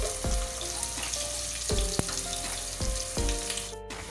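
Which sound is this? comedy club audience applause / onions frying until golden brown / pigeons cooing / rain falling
onions frying until golden brown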